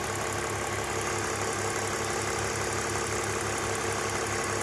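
A warm BMW E46 M54B22 inline-six holds a steady 3000 RPM, a dense, constant engine drone and hum heard up close without any talk.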